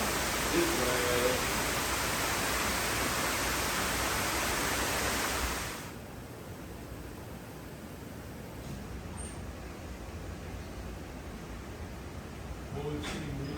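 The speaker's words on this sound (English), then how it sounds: "Oh, it's getting windy now." Wind blows outdoors as a storm approaches. For about six seconds there is a loud, broad rushing, and then it drops to a softer, steady hiss for the rest of the clip.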